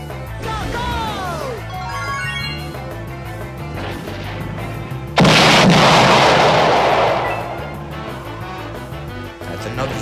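Bomb item exploding in the racing video game Super Roblox Kart, a sudden loud burst that swells and fades over several seconds against busy game music and effects, with a voice talking over the action.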